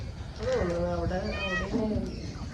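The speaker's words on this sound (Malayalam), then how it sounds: "ഇത് താഴത്തെ പൂച്ച കേട്ടോ ഞങ്ങളെ പൂച്ചയല്ല" A domestic cat meows several times in drawn-out, wavering cries, close by, with faint background noise.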